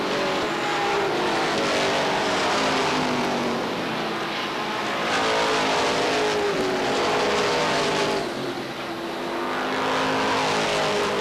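Stock cars race through the final lap at Beech Ridge Motor Speedway in 1991, a loud, dense roar of many engines that swells and fades as the pack sweeps past, with no voices.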